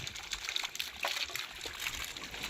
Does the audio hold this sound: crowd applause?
no